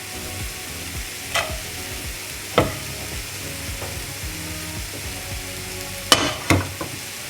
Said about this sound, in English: then I'm just going to fry off the spring onion quickly